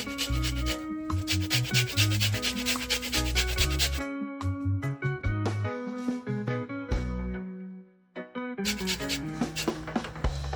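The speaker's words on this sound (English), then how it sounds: "So guys, I'm zesting my orange." An orange being zested, heard as steady rubbing and rasping strokes over loud background music that drops out briefly near the end.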